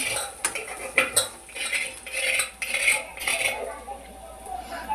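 A spoon clinks and scrapes against a pot while onion-garlic masala, Everest masala and red chilli powder are stirred together, irregular metallic taps close up with a voice talking at times.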